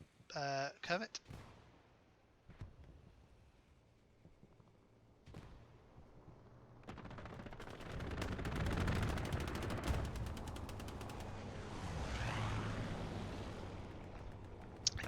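Aircraft strafe run in the Hell Let Loose video game, rapid distant gunfire in rattling bursts building to a sustained rumbling barrage, with a voice speaking briefly at the start.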